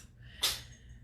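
A cat gives a single short, sharp sneeze, a quick breathy burst over faint background hum.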